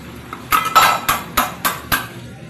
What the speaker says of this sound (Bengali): আদা একটু কুড়িয়ে নেবো।